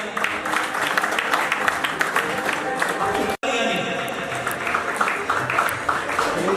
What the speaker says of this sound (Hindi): उनके लिए खसूसी तालियां